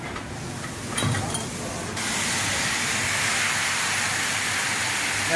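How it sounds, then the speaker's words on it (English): Borehole water rushing through a chlorinator into a storage tank, a broad loud hiss that swells and steadies after a couple of seconds, continuous and close. "That's the water flow now into your tank."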